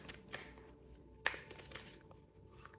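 A deck of cards is shuffled by hand in a few quiet riffling bursts, with one sharper snap partway through, against a near-silent room and no talk.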